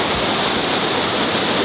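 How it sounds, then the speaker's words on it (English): Sipyen Waterfall on Kosrae roars as a steady, loud, broadband rush of falling water, constant and unbroken throughout. "if you ever come out to Sipyen Waterfall"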